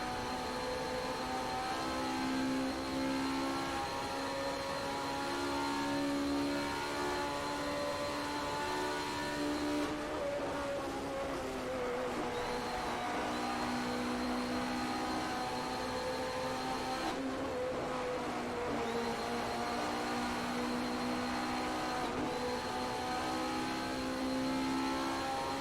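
Race cars roaring around an American motorsport track late in a race, a steady loud engine drone with rising and falling pitch as cars pass, continuous throughout with no talk.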